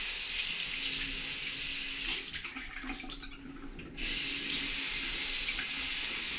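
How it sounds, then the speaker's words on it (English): A bathroom faucet runs steadily into a sink for rinsing during cleaning, a constant close hiss of water that dips briefly midway as the flow is interrupted, with no voices. "Rinse that out."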